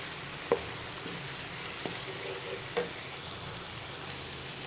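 Quiet, continuous sizzling of spices frying in a pan for a keema paratha filling, with a few soft clicks and scrapes of stirring.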